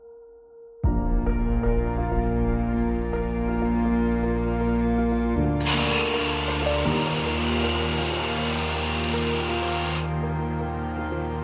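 An airless paint sprayer's motor kicks on with a steady mechanical whine, then a loud hissing spray bursts in for several seconds while painting a door before cutting off, leaving the hum running.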